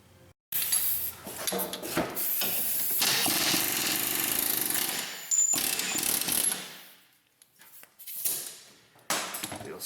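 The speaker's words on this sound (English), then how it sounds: "Get the air hammer, we'll knock them out." Pneumatic air hammer knocking out splined bolts on the rear suspension of a Pontiac G6, loud bursts of rapid hammering with short pauses and metallic clanks between them.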